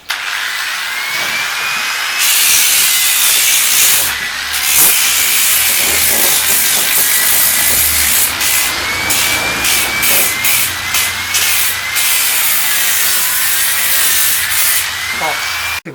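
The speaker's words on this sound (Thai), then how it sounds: "อันนี้ขัดก่อนนะครับ" A power sander rubs across wood for DIY floating kitchen shelves, giving a loud, steady hiss and whir that runs continuously, with slight shifts in pitch as the tool moves.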